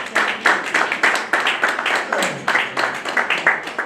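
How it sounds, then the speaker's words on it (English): Clapping at a Sierra Leone Grammar School anniversary celebration, a smaller group of hands beating in fairly distinct, loud, close claps with a loose rhythmic pulse throughout. "I really want you to give Emil a round of applause."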